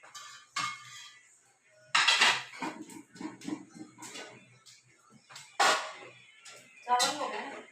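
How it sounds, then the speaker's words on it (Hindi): Dishes and utensils are set down at home for a breakfast of parathas, rice and eggs. Several separate clatters and clinks come at irregular intervals, with quieter handling and some speech between them. "चावल हो गए, बर्तन रख दिए।"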